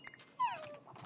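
Dog whimpering in a fantasy survival video game, a single high, sliding whine that rises sharply and trails off, with faint game noise around it.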